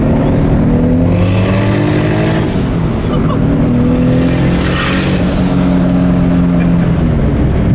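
Toyota MK4 Supra with a big-turbo 2JZ engine accelerating, a loud continuous engine roar with rising tones and two surging pulls, heard from inside the car throughout.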